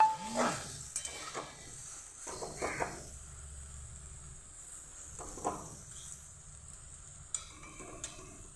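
Vegetable curry of spinach, flat beans, eggplant, potato and lentil dumplings being stirred in a pan, with a few soft scraping strokes and faint sizzling at close range, no talk.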